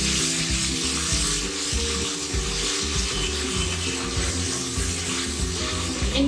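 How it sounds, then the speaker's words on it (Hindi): Mashed onion and garlic frying in a pan for mutton paya, a steady dense sizzle with no pauses, close and fairly loud, with no talking. "जैसे ये प्याज और हमारा लहसुन भून जाएगा"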